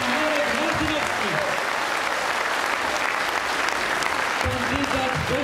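Loud, sustained applause from a crowd at a political rally in Płock, broad and continuous throughout, with a voice speaking over it near the start and again near the end.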